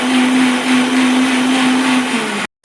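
Kitchen blender whirring curd with salt in a jar, a loud steady motor hum for over two seconds that stops abruptly.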